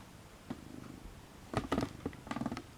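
A house cat purrs softly and close by during the unboxing of a vintage craft kit, low and steady with a few louder rustling bursts, no one talking.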